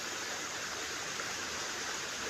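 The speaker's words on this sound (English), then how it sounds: "there is water flowing" Water flowing in a stream inside Nairobi City Park, a steady broadband rushing and gurgling wash that stays constant and close, with no voices over it.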